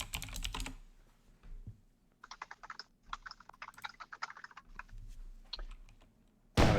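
Keys clatter on a computer keyboard in quick, uneven bursts of close, crisp clicks with short pauses between, set against a quiet background with a brief louder noise at the start and end.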